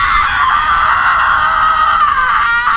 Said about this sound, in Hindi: आर्यन चीखा, छोड़ दे उसे, छोड़।